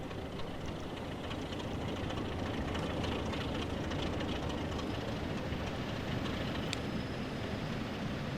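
A BR Class 50 diesel locomotive in Train Simulator rumbles steadily along the Portsmouth Direct Line, a continuous engine and wheel noise with a faint clickety texture throughout.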